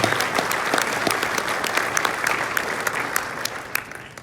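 A room full of people at an antique car club's national award ceremony claps steadily and loudly, with dense, even applause and a few sharper claps near the end.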